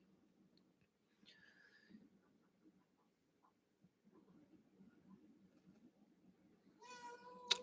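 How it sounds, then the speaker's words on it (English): A pet cat meows indoors near a microphone, one short meow early on and a louder, higher one at the end, over quiet low rumbling room noise. "I have a kitty cat, Bubbins. You might hear him in the microphone"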